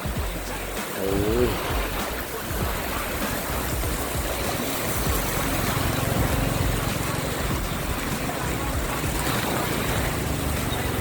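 Loud, steady rush of the fast-flowing Pai River in Thailand after heavy storm rain, a continuous turbulent roar that fills the whole clip without letting up.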